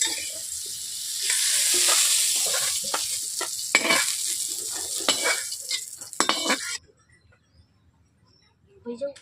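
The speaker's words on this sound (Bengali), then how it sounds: "পটলগুলোকে আমি এইরকম করে ভেজে নিচ্ছি।" Pointed gourd pieces frying in hot oil, a loud continuous sizzle with repeated spatula scrapes and knocks against the pan, cutting off abruptly near the end to near silence with a faint clatter.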